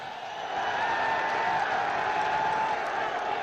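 Crowd applause and cheering at a political rally in Multan, a dense, steady roar of clapping that swells in and holds at full strength throughout.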